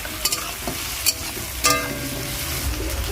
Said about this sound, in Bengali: রসুনটা দিয়ে একটু ভাজা ভাজা করে দিচ্ছি